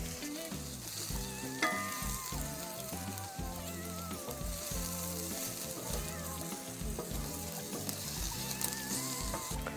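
Onion frying in mustard oil sizzles gently and steadily in a pan, quiet and close, under a melodic music backing.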